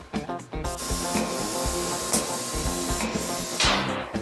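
Military-spec undercoating is sprayed onto the underside of a 4-Runner in loud, continuous hissing bursts close by, broken by short pauses and a few knocks.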